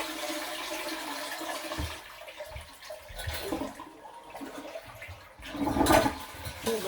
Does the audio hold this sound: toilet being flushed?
yes